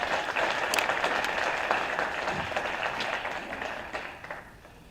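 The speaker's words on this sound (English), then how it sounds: "Give them a round of applause." An audience applauds election candidates at a breakfast event, a moderate wash of clapping that gradually tapers off over a few seconds.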